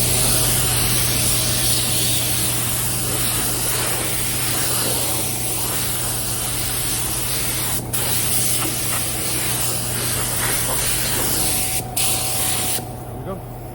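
A spray gun lays sealer on a 1984 C10 during a candy paint job, a loud, steady hiss that runs unbroken for the whole stretch, with a couple of brief dips near the end.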